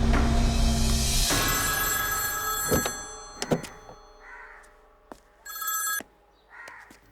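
A telephone rings in short bright bursts, separated by gaps and punctuated by a few sharp thunks, heard close and fairly clear with no talking.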